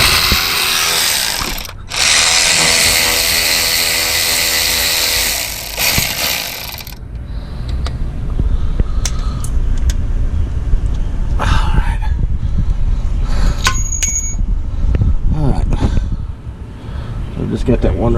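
Power tool loosening a bolt on a 2013 Dodge Charger R/T 5.7 during A/C compressor replacement: a loud continuous whirring ratchet burst for about seven seconds with a brief gap, then scattered clicks and clanks of parts being handled.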